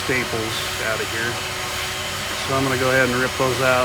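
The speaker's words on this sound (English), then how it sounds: "excuse the vacuum noise" A vacuum cleaner runs nearby while the back bar area of a 1994-2004 Ford Mustang convertible top is cleaned out, its steady broadband whine continuing under someone talking throughout.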